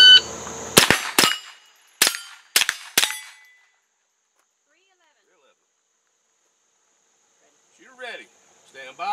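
Gunshots on steel targets at a shooting competition: a sharp close report followed by several quick ringing impacts over about three seconds, then silence and faint distant chatter near the end.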